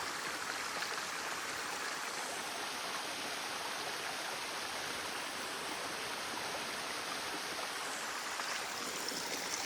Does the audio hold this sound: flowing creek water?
yes